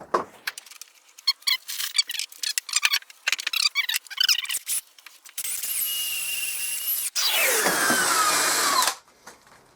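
A power drill bores through wood while the legs are fixed to a clamped fold-down workbench. Scattered knocks and handling clatter come first, then two sustained whining drill runs, close and loud, with no talking.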